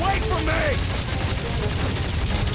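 Enemy gunfire in a Guardians of the Galaxy space battle, dense rapid shots and booms running throughout under voices calling out.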